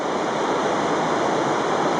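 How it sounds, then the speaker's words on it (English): Bright Angel Creek on the North Kaibab Trail in the Grand Canyon rushes steadily nearby, a loud, unbroken wash of flowing water with no voices. "it's nice to have this creek even though it's chilly out this morning"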